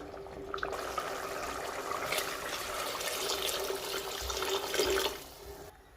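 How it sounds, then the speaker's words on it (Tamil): Water pours in a steady stream into a pot for mutton vermicelli biryani for several seconds, its sound rising slightly before stopping abruptly near the end; quiet, close-up. "இப்போ நம்ம சேமியாவுக்கு தேவையான அளவு தண்ணி சேர்த்துக்கலாம்."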